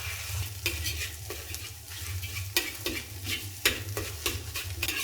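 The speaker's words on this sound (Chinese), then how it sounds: "鸡蛋先进锅炒熟了" Eggs being stir-fried in a wok over low heat with a little oil for Singapore curry rice noodles, a soft steady sizzle broken by repeated sharp scrapes and clacks of the spatula, no talking.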